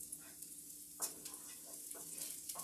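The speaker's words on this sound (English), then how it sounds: "Alright, so getting my garlic here, it's almost browned up some. Again, I'm not just sauteing these," Garlic sizzles and browns in a hot pan for shrimp scampi, a steady close frying hiss with small crackles and a few sharper pops scattered throughout.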